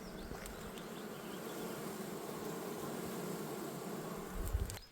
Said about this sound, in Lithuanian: Bet nemaža tų bičių.